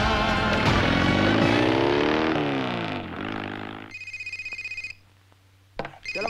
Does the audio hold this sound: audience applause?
no